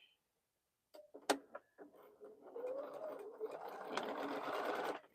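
A sewing machine stitches on a scrap of fabric after a silent pause, starting with a few sharp clicks and thumps, then running into a steady, moderately quiet mechanical whir.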